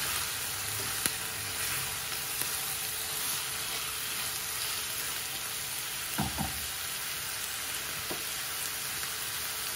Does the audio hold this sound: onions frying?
yes